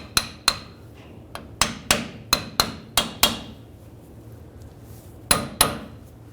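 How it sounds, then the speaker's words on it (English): Sharp metallic hammer taps on a front lower ball joint of a 2007-2014 Chevrolet Silverado 2500 HD, about a dozen in uneven bursts with a pause in the middle, close and fairly loud. "Just take a little hammer, straighten it out."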